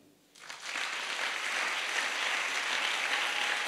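A church congregation breaks into applause and cheering after a short quiet moment, the clapping rising quickly into a dense, sustained roar of many hands that fills the room to the end.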